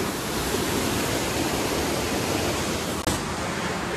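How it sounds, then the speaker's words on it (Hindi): A waterfall beside a hotel room in Joshimath, Uttarakhand, roars as a steady, loud broadband rush of falling water, with one brief click near the end. "हमारे रूम के बराबर से एक झरना वगैरह है, मैं दिखाता हूँ आपको।"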